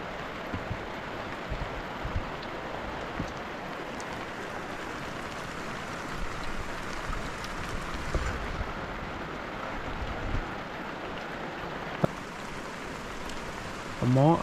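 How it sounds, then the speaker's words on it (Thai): Steady rain keeps falling in the hills during the rainy season after half an hour of downpour, a dense even hiss close by with a few sharper knocks near the end and no speech. "ตกมาในบุ้งประมาณครึ่งชั่วโมงแล้วพี่น้องฝนยังบ่ทันเซา"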